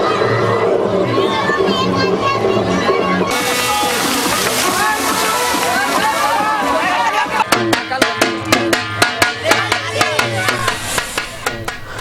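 Devotees crowd a pond at a Ganesh idol immersion, a dense roar of voices and shouting over water sloshing, then a run of sharp rhythmic splashes or claps in the last seconds.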